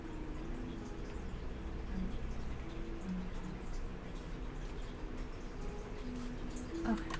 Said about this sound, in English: I don't know if you guys can hear the rain. It is coming down.